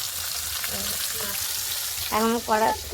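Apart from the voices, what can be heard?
fish frying in oil in a wok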